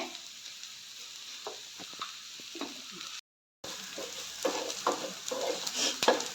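Onion and chilli sautéing in a pan for pickle, a steady sizzle broken by stirring scrapes and clacks, with a brief gap of silence midway and louder sizzling bursts toward the end.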